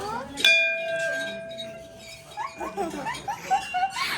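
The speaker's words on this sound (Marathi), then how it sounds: "याला ना आता ही बार बार घंटी वाजवायची आहे आणि त्यालाच तो एवढा खुश होतो।" A small bell rung by a child at a toddler's first-haircut ceremony gives one clear strike that rings out for about two seconds, followed by nearby voices and laughter.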